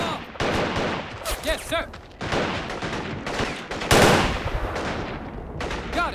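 Bursts of rifle and machine-gun fire rattle in Men of War Assault Squad 2, several close volleys in uneven rhythm with soldiers' voices calling out between shots.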